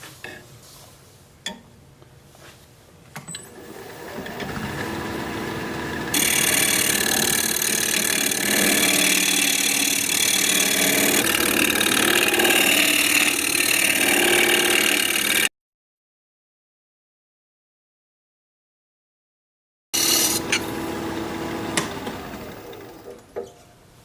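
A small carbide cutter shears wood on a spinning lathe during bowl turning, a steady loud broadband cutting hiss that swells and holds, stops abruptly into silence, then resumes briefly.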